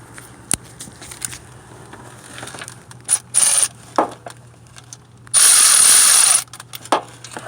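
A power tool ratchets and whirs in short bursts while tightening bolts on a Honda transmission range switch, with a few quick pulses and one longer sustained run, close and fairly loud against a quiet background.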